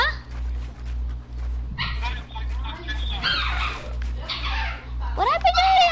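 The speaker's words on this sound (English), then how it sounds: "I can barely even hear you because my stupid ass dog's freaking weird." A small dog yips, whimpers and barks in short bursts over a steady electrical hum, fairly close, interleaved with people talking nearby, with a rising whine near the end.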